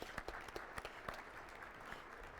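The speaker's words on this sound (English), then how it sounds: "you guys should give yourself a round of applause" A conference audience at the SAINTCON opening keynote claps faintly and unevenly, scattered distinct hand claps sounding distant and quiet for a couple of seconds.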